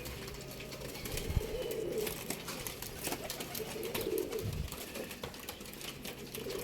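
Soft pigeon coos come a couple of times against quiet outdoor background noise, faint and somewhat distant.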